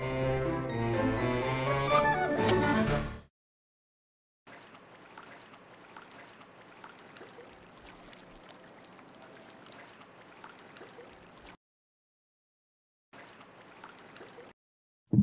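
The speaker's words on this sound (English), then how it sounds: "Now we have to stir it" After a short voiced passage, a liquid potion is stirred in two separate stretches of soft, steady swishing and trickling, moderately quiet, each ending in silence.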